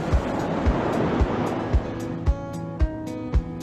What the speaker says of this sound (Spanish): Cuando miramos el mar, siempre hay olas, más pequeñitas o más grandes